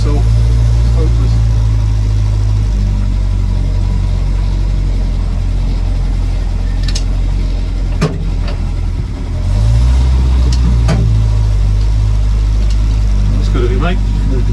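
A petrol Land Rover Series 2a 88in soft top idles with a steady, loud, low engine drone that holds throughout, with a brief dip and change in tone partway through and a few clicks and knocks.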